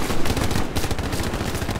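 Dense machine gun fire in the World War II shooter Hell Let Loose, a loud, continuous rattling barrage of rapid shots with booming low rumble throughout, no talk.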